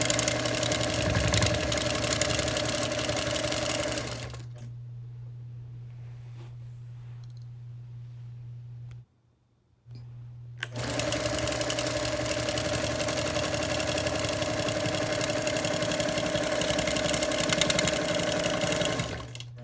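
A sewing machine does dense background quilting around trapunto motifs on a lone star flag quilt, making a steady mechanical whir and hum. It stops for several seconds in the middle, then starts up again at the same pace.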